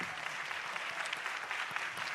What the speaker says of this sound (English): Let's give them a round of applause for moderating.